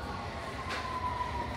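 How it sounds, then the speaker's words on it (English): London Underground train at Embankment station, a steady low rumble with a thin high-pitched squeal running briefly through it. "I just get on whichever train comes first"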